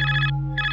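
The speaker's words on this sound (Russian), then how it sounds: "А, телефон надо взять же." An old-style telephone in the video game Barrow Hill rings with a bright electronic trill that stops briefly and then starts again, steady and clear with no talk.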